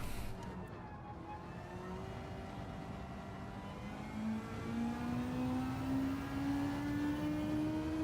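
A turbocharged car engine in a racing game rises steadily in pitch as it accelerates, a smooth building whine and drone heard alone at moderate volume.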